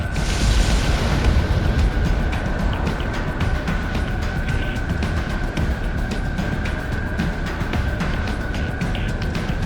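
Missile impact explosion in the video game Ace Combat X: Skies of Deception, a loud, continuous low roar and rumble that holds steady for about ten seconds, with no voice over it.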